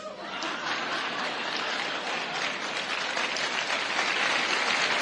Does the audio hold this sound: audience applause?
yes